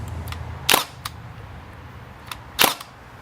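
Makita DST630 cordless narrow crown stapler driving 22 mm staples into pine, two sharp loud snapping shots about two seconds apart, each with faint lighter clicks around it.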